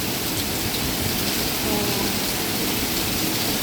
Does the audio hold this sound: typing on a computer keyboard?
no